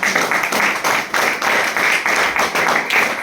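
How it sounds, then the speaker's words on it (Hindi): Audience applause at a gathering on Swami Vivekananda's ideas, steady dense clapping from a crowd that keeps a constant level and swells slightly in waves throughout. "आप लगातार तालियों से उत्साहवर्धन करते रहें।"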